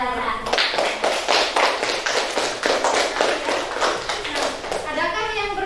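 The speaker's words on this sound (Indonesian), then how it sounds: "tepuk tangan buat kelompok darah" A classroom of children claps together for a group, a fast run of loud, close hand claps lasting several seconds, with a voice at the end.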